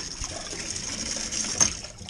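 A bottle rinser jet washer sprays hot water into mead bottles with a steady, close hiss of spray and a brief louder burst near the end; nobody talks.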